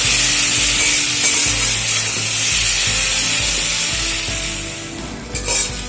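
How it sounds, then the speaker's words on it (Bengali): Loud, continuous sizzling of taro stolons frying in a pan without spices, with scraping and clanking from stirring throughout, close up and without talk. "বারে বারে নাড়াচাড়া করে লুটিগুলোকে ভালো করে ভেজে নিতে হবে"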